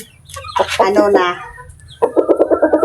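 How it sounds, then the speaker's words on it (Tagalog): A rooster from a backyard poultry pen gives a drawn-out squawk, then a quick run of rhythmic clucks, close and loud, with a voice faintly in the background. "At ito yung pinaka-paborito kong manok."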